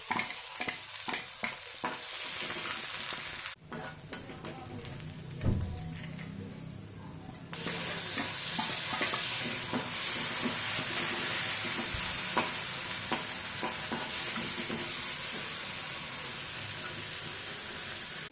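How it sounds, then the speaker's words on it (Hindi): Chopped green chillies and onion fry in a pan with a loud, continuous sizzle and occasional stirring clatters. The hiss steadies and fills the pan after a brief quieter stretch, and nobody speaks. "और अब ये कटी हुई हरी मिर्चें थोड़ी देर भूनेंगे।"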